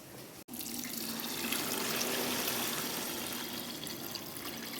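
Water pours steadily into a pot of rice for pulao, a close, continuous rushing splash that begins abruptly after a short pause and keeps a constant level to the end.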